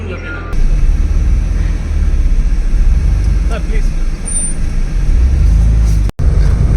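A Maruti 800 car drives along a road, a steady loud engine and road rumble heard from inside the cabin, continuous with a brief cut-out near the end.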